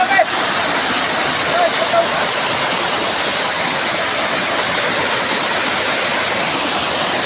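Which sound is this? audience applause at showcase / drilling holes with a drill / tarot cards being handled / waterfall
waterfall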